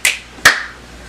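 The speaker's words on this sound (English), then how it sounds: "2 snaps and a clap." Two sharp hand sounds, a finger snap and a clap, ring out close and crisp about half a second apart, followed by quiet.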